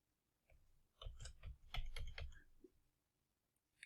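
Quick typing on a computer keyboard, close and quiet, comes as a short burst of clustered key clicks followed by a pause and a single final tap.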